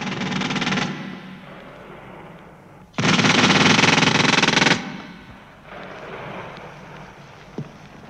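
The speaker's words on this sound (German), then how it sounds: "Da führt die Kolonialtruppe eine neue Wunderwaffe ein, das Maschinengewehr." A machine gun fires in rapid, sustained bursts: one long, loud burst, a pause, then a second, fainter burst. Windy noise lies underneath.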